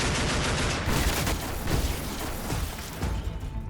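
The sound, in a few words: Rheinmetall MK 108 30mm cannon fire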